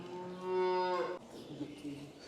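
A cow on a farm lets out one long, close, loud moo that breaks off abruptly, followed by quieter lowing in the background.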